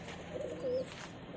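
A short, soft pigeon coo, two low murmuring phrases against a quiet background.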